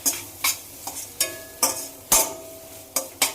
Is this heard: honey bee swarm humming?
no